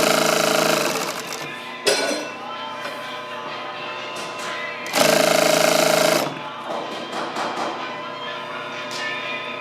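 A home sewing machine stitches welting set to its longest stitch, running in loud, fast, rattling bursts with pauses between them and quieter mechanical clatter in the gaps, close by.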